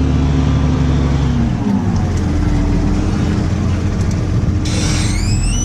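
Tractor engine pulling a plough on a field headland, a loud steady low drone close by that shifts pitch slightly as it works, continuous throughout with a brief higher whine near the end.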